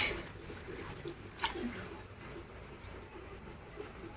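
Floodwater pours steadily into a house through cracked corners of the roof, a continuous wet rushing with soft drips and squishy splashes close by.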